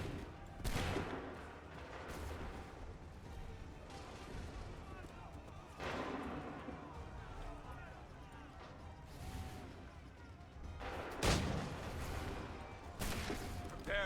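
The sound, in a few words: volley of musket gunfire in video game Assassin's Creed III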